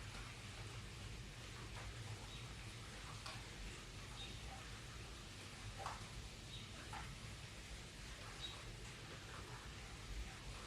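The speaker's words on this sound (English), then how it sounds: "It's raining." Rain falls steadily outdoors as a soft, even hiss with a few faint drips and ticks scattered through it, quiet and continuous with no talking.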